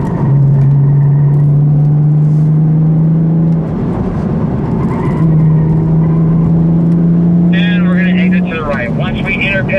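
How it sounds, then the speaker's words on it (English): A Chevy Camaro six-cylinder engine drones steadily at high revs on a race track, rising slightly in pitch, then eases and climbs again, loud and close throughout. "the engine for a 6-cylinder is really sweet sounding. Listen to that."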